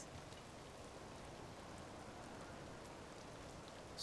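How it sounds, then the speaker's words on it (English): Steady rain falling in a video game set in a canyon, a soft continuous hiss of drops with even texture and no breaks, faint and distant, with no voices over it. "and it's raining again"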